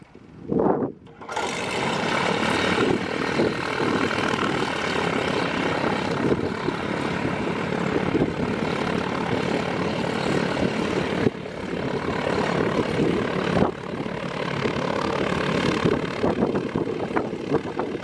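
A small propeller plane engine fires up after a brief cough, then settles into a steady droning run that holds close and fairly loud, with no one talking.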